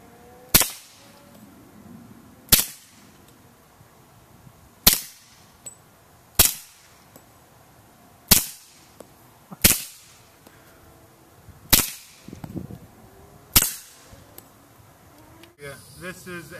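Suppressed Sig Sauer 1911 Scorpion pistol fired with a 45 Osprey suppressor at a 10-yard outdoor range: eight sharp, muffled shots spaced about two seconds apart, each with a short fading tail, heard alone and close.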